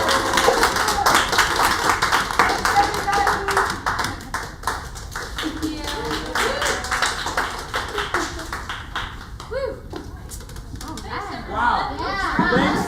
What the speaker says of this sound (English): To have applause is amazing.